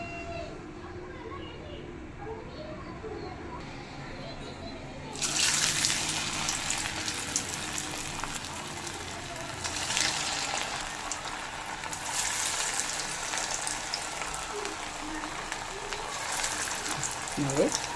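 Potato nippattu dough balls frying in hot oil, a steady broadband sizzle that swells louder after a few seconds and continues throughout, with a voice talking over it.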